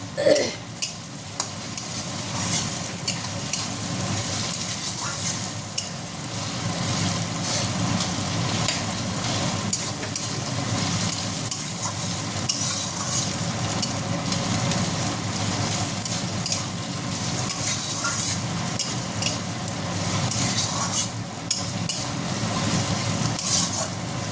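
A spatula stirs chowmein ingredients frying in a pan, making repeated scraping and clinking strokes over a constant hiss of hot oil. The sound is close and busy, with no speech.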